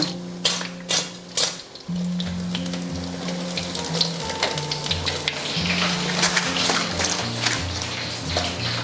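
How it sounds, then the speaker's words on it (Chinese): Freshly fried laver seaweed gives a few sharp crisp crunches and taps at the start, then steady loud frying sizzle and bubbling continues underneath. "第2锅也好了，朋友们可以听一听酥脆的声音"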